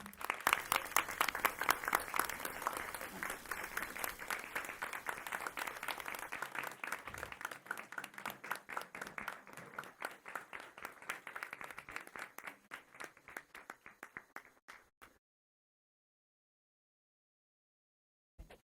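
Sustained audience applause at a school board meeting, dense clapping that thins out over about fifteen seconds into scattered claps before stopping, with no talk over it.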